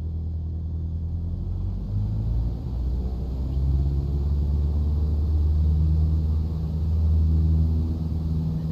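Steady low engine roar and rumble from an aircraft throttled up to full power in Microsoft Flight Simulator 2020, droning continuously and swelling slightly in places, with no talking.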